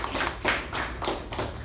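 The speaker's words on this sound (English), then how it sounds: "So a round of applause for her." Attendees at a Toastmasters meeting give a round of applause, a modest and fairly quiet patter of scattered hand claps from a small group, steady for under two seconds with no speech.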